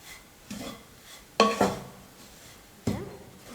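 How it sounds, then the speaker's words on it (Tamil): Grated coconut dry-roasting in a pan while being stirred, heard as a few sharp scraping and clinking strokes of a spoon against metal with quiet gaps between them. "தேங்காய் துருவலை ஒரு 6 நிமிஷத்துக்கு நல்லா வறுத்துக்கிட்டேன்"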